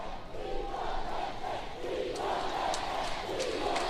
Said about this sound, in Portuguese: o apoio da galera, da torcida para Timor-Leste